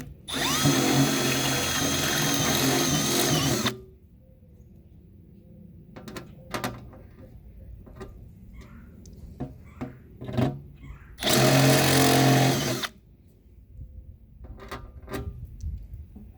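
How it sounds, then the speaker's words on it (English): Milwaukee M12 drill boring small pilot holes for an ammo box saddle bag, two loud sustained bursts of a few seconds each separated by quieter handling clicks and knocks. "Using my Milwaukee M12."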